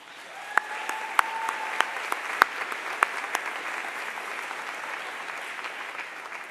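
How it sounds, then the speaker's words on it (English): An audience at an academic convocation applauds in a steady, moderately loud wash of clapping with a few sharper individual claps standing out. "So we'll applaud them as well,"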